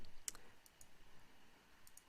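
A computer mouse clicked a few times during a computer-based IELTS listening test: several short, quiet, sharp clicks spaced irregularly against a faint background hiss, with no talking.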